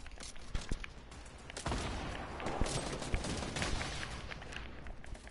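Rapid video-game gunfire from a newly acquired gun, a dense continuous volley of shots and bursts running through the whole stretch at fairly close range, with no talking over it.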